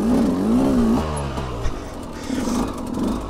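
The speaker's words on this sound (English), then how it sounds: "Hey, keep the bike running." KTM 200XCW two-stroke enduro dirt bike fitted with Mitas Terra Force tyres, engine revving up and down at close range on a White River South trail, loud and steady throughout with pitch rising and falling.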